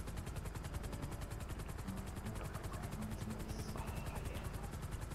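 Helicopter flying in GTA 5 Online, a steady, loud, continuous rotor chop with fast rhythmic pulsing throughout and a few faint game sounds mixed in.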